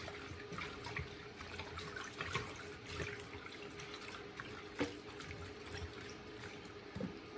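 Tap water runs steadily into a sink while cabbage and other vegetables are rinsed beneath it, with splashing, dripping and occasional small knocks close by.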